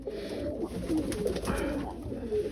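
Low, throaty cooing from a lone pigeon in a covered loft, close by and continuous, with soft rustling underneath and no talking.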